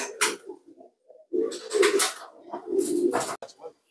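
Racing pigeons at a breeders' loft coo in soft, low bursts, a couple of separate phrases with short gaps, moderately close, alongside some scattered bird chirps.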